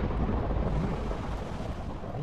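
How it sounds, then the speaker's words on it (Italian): Thunderstorm in the Minecraft video game: a steady, loud, broadband rumble of rain and rolling thunder fills the whole stretch without pause, with no talking over it. "Minchia, un bel temporale."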